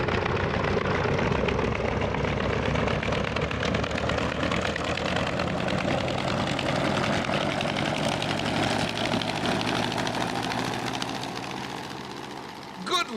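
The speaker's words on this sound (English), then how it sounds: "start engines, full reverse" Engines start and run in full reverse aboard a vessel in a comedic audio drama, giving a loud, continuous low rumble and drone that fades slightly near the end.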